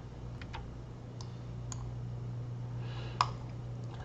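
Faint, sparse mouse clicks in SolidWorks, a handful of short sharp ticks spread over a few seconds, with one louder click near the end over a steady low electrical hum.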